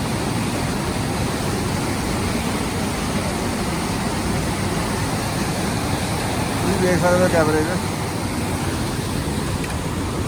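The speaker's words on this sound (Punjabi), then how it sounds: "ਤੇ ਇੱਧਰ ਵਗਦਾ ਪਾਣੀ ਪਾਣੀ ਦੀ ਸਪੀਡ ਹੁੰਦਾ ਹੈ ਜਿਵੇਂ ਗੋਲੀ ਦੀ ਸਪੀਡ ਹੁੰਦੀ ਪੂਰੀ ਬਹੁਤ ਤੇਜ਼ ਆ" Fast mountain river water roars in a steady, dense rush beside a forest trail from Govindghat to Govind Dham, while someone talks over it.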